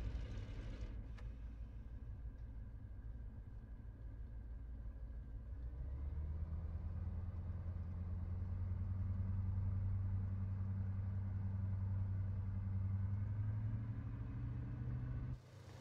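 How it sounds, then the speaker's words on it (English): In the DCS flight game, a Yak-52 aircraft's engine rises from a low idle into a steady, louder droning hum as it accelerates down the runway, rising in pitch slightly before cutting off at the end. "As we accelerate down the runway,"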